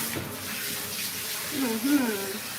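Running water rinses a long-haired British cat during a bath, a continuous splashing flow close by, with a voice speaking over it partway through.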